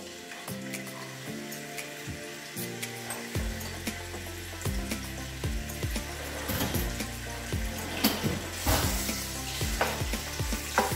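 Bacon sizzles in a pan with a steady frying hiss. It sits under a loud, hum-like tonal drone, and sharp clicks and stirring scrapes come through close by.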